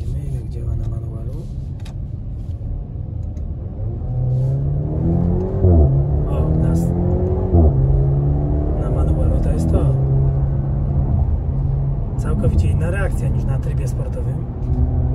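A Maserati Grecale GT in sport mode, its engine revving in rising and falling sweeps with a few exhaust pops, heard from inside the cabin beneath steady talk from a driver.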